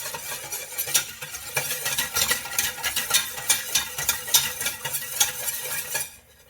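Japanese curry roux being whisked in a big bowl: a steady, brisk scraping and swishing with rhythmic strokes close by, gently bubbling underneath, with no talking, then falling quiet at the end.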